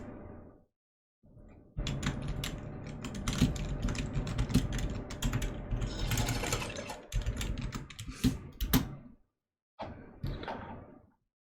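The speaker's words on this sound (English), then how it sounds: "You know I'm good with the typing." Someone types rapidly on a computer keyboard close by, a dense clatter of keystrokes in bursts with short pauses between, no voices.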